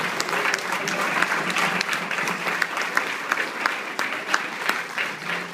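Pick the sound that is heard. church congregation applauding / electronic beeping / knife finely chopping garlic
church congregation applauding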